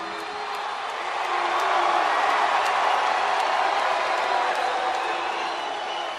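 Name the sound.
crowd cheering in a wrestling broadcast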